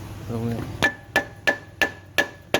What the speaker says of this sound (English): take a mallet and a hit right here, and the puller should come off